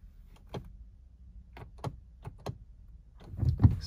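A car door is worked shut: a scattering of light clicks and latch knocks, then a heavier closing thump near the end, with no talking.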